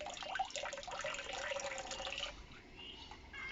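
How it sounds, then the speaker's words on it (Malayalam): Cold mountain spring water flows out of a hose. A faint, steady gush and trickle continues without pause, with a slight splashing texture that softens toward the end. "ഈ ഓസ് വഴിയാണ് വെള്ളം വരുന്നത്"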